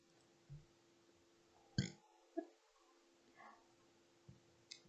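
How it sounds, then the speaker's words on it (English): A person hiccups, a few short, abrupt gulping bursts spaced irregularly over quiet near-silence, close and soft. "I got hiccups."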